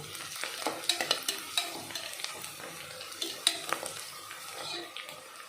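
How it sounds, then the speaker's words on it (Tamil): Onions and green chillies sauté in a pan for chicken biryani, with soft sizzling under repeated spoon clinks and scrapes against the pan, quiet and close. "வெங்காயம் கொஞ்சம் நல்லா வதங்கட்டும்."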